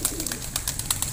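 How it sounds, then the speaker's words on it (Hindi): A pigeon coos nearby, soft repeated throaty notes, fairly loud over faint background noise. "तो वो ये कबूतर है इनके,"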